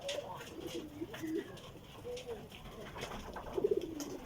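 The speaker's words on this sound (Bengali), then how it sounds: "আমার যে কবুতরগুলো আছে যে পানি খাচ্ছে" Pigeons coo softly at close range while drinking water, a few low throaty calls rising near the end against quiet ambient noise with some background voice.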